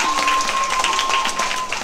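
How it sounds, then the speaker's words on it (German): Applause from a referee workshop audience, a dense steady patter of many hands clapping throughout with a faint tone running beneath, fairly loud and close, no talk over it. "dann einmal einen fetten Applaus und Dankeschön!"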